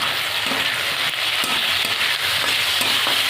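Dried chillies and mustard seeds sizzling in hot oil: a dense, loud, continuous frying hiss dotted with small crackles and pops, with no voices.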